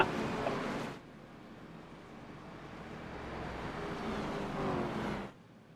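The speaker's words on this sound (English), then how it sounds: "The Great Value Chevy Silverado pace truck leading the field." Race cars on the Chicagoland Speedway oval roll in formation behind a Chevy Silverado pace truck, a steady low engine rumble and whoosh that swells as the field approaches, then drops off sharply as it passes.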